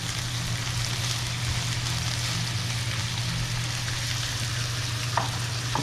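Steak frying and searing in a hot pan, a dense continuous sizzle and crackle held close and steady throughout with no talking.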